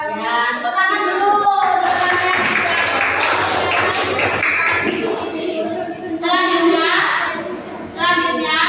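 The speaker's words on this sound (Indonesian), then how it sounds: "Ya, tepuk tangan dulu." Children clap their hands in an Indonesian classroom, a burst of brisk, dense applause lasting a few seconds, with children's voices and a teacher speaking before and after.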